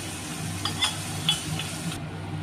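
Spice paste for a mustard-poppy phalui fish curry being stirred and fried in a pan, a steady soft sizzle with a few light scrapes of a spoon up close.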